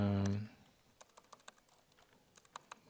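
Code is typed on a computer keyboard as a quiet, irregular patter of key clicks, after a brief voiced sound at the start.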